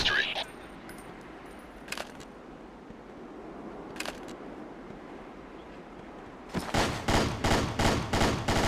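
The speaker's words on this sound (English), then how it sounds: "They're already shooting." Gunfire in the video game Ghost Recon: Island Thunder: a few isolated sharp shots at first, then a rapid burst of loud repeated cracks near the end, with speech heard amid the shooting.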